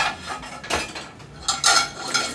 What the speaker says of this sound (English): As far as unloading the dishes